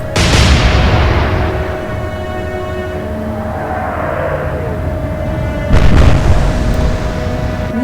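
Naval guns fire a salvo in Atlantic Fleet, a Royal Navy versus Kriegsmarine sea battle: a loud booming blast at the start rolls into a long rumbling decay, followed by a second heavy boom near the end, with no talk.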